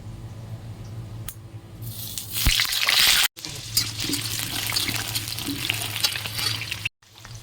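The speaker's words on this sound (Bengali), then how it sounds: "কড়াইতে তেল গরম হয়ে গেছে, প্রথমে আলুগুলোকে ভেজে নেব" Potatoes drop into hot oil in a wok and fry with a loud, bright sizzle that bursts up suddenly, then settles into a steady crackling hiss with stirring noises.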